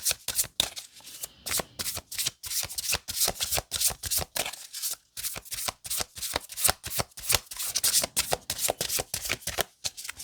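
Tarot cards being shuffled close up, a rapid run of crisp riffling bursts and flutters repeating steadily for about ten seconds with no talk.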